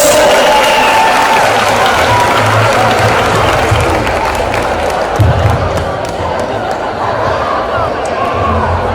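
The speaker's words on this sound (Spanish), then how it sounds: "Así que aplausos fuerte para ellos." Strong applause for third-year secondary school students at a carnival awards gala in a school, a loud sustained crowd clapping with chatter, a few thumps and cheers mixed in.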